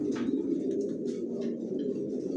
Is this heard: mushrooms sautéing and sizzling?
no